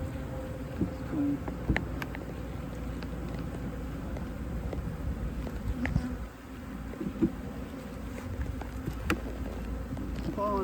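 Bees swarming around an opened hive during a hive inspection, a dense continuous buzz close by with scattered clicks and handling noises and brief faint voices in the background.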